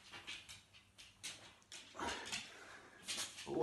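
A dog held in place during a movement exercise lets out faint, soft whimpers and whines in several short bursts, close by and quiet, with no talk over them.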